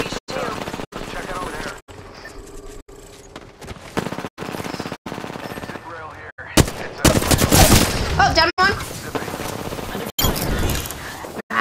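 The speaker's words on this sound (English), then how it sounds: "Opening fire." Gunfire in the video game Apex Legends rattles in rapid, loud bursts and single cracks, with a dense stretch of automatic fire midway and talk in between.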